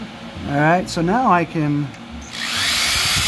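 A power drill whirs steadily near the end while drilling holes around the perimeter of an air hockey table, preceded by someone speaking up close.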